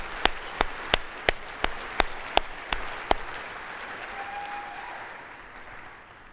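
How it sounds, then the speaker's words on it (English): Applause for a sponsor at an aviation safety awards ceremony comes as about nine crisp, evenly spaced claps close by, then fades into quiet room tone. "Huge round of applause for our sponsor"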